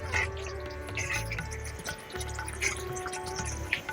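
Paneer soaking water poured into a cooking masala for paneer butter masala, faint dripping and splashing liquid with soft sizzling underneath, quiet and close, no speech.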